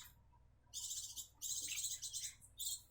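Young cucak jenggot jawa chicks, about twelve days old, give thin high-pitched chirping calls in several short bursts, close and fairly faint over a quiet low hum.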